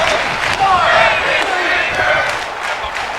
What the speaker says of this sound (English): What was the crowd chanting there?